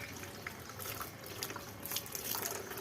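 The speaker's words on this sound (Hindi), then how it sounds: "मैं पानी भरूं।" A tap runs steadily while a container fills at home during Holi preparations, a close continuous stream with small splashes and drips, no speech over it.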